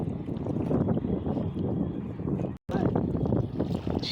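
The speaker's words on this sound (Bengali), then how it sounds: "এই যে আমার কাকু নৌকা বাইতেছে" A wooden rowboat moves across water under steady splashing and wind rush, with a brief dropout midway. Voices can be heard faintly beneath the noise.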